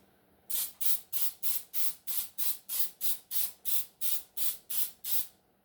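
Rapid, evenly spaced bursts of aerosol cooking spray onto muffin tins, about fourteen short hissing pumps in a steady rhythm, close and fairly loud with no talking.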